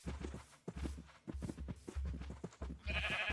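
Sheep bleating in Minecraft: repeated short blocky bleats close by in an uneven rhythm, mixed with soft footstep-like clops and a brief brighter game sound at the end, no voices.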